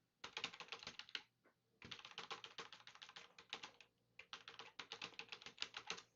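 Fingers typing a password on a computer keyboard in three bursts of rapid, close, crisp key taps separated by short pauses.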